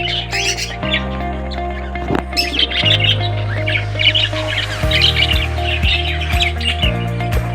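Budgerigars in a breeding cage chirp and squawk continuously, a busy chorus of sharp, close calls over a low steady hum.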